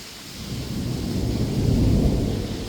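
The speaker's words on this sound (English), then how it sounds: "It is raining," Steady rain hisses while a deep roll of thunder swells and rumbles beneath it, loudest toward the end; no one speaks.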